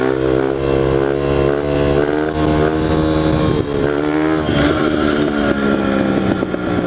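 A pit bike engine revs loudly and close during third-gear wheelies, a sustained buzzing drone that shifts pitch as the throttle rises and falls.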